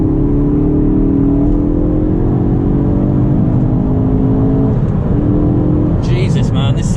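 A Ford Focus RS accelerating hard with a loud, close engine drone rising steadily in pitch, easing off near the end, with a voice under the engine noise.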